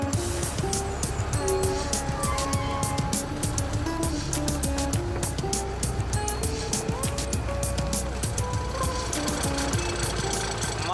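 A heavy tar-delivery truck creeps down an icy mountain road, its engine droning steadily and loud throughout with a rattling, knocking mechanical texture and clanking over the rough surface, no voices.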